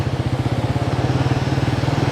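A motorcycle engine thrums steadily with a fast, even pulsing beat while the bike is ridden along, loud and close with no voices over it.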